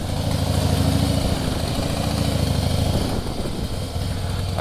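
A 2008 Harley-Davidson Heritage Softail Classic motorcycle engine runs loud and steady during a ride, with a continuous low rumbling throb and no speech.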